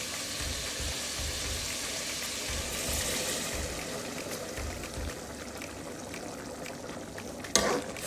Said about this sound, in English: So I'll be going in with water. I'll be using hot water.